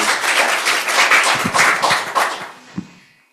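Applause from a Sunday service congregation, a dense patter of clapping that fades out over a few seconds, with a last few scattered claps.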